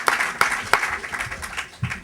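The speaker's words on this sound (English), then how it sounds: "A round of applause for these very popular gentlemen" Audience applause at a symposium lecture, a steady wash of clapping with a few sharp louder claps near the start, heard fairly close and without talk.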